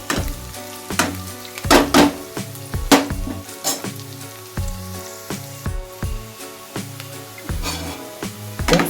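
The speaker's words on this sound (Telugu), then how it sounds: "మంచిగా ఆనియన్స్ అయితే ఫ్రై అయినాయి" Onions frying on a high flame for a bitter gourd curry, giving a crackling sizzle broken by sharp clinks and stirring knocks of a utensil against the pan, loud and close, with no voices.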